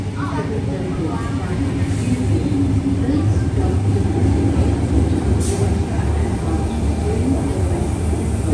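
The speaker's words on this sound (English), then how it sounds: "So now we're going to board the train that takes us to the domestic terminal." Underground airport terminal train at Honolulu airport, a continuous loud rumble and rolling drone with a faint hiss of brakes, steady for several seconds with no speech.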